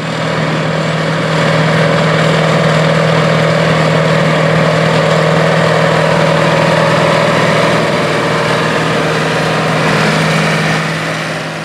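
A John Deere tractor engine runs steadily while harrowing a field, a deep, constant drone and a low hum throughout, loud and close, with no voices.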